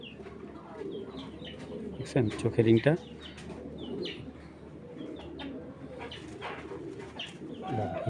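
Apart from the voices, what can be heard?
tournament pigeons cooing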